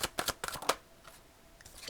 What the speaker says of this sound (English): Okay, so one more shuffle.